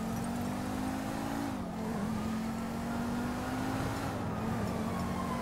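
A car in the video game GTA V drives with a steady engine drone that shifts pitch as it changes gear, heard continuously and fairly loud with no talking.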